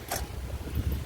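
Gusting wind rushes across the microphone in a steady low roar during rain at a village water park in Jeddah, Saudi Arabia, with a brief brighter burst of noise near the start.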